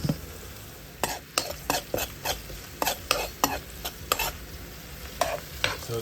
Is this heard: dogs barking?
no